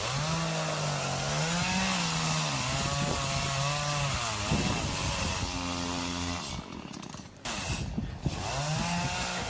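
A chainsaw runs close by through hurricane clean-up, its engine pitch rising and falling as it revs and bogs into wood, with a few brief pauses between cuts.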